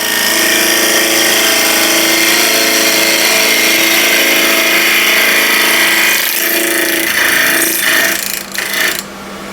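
A wood lathe turns an old window sill while a 12 mm spindle gouge trues up its diameter, a loud continuous whir with scraping, cutting texture that holds steady, then wavers and breaks off near the end.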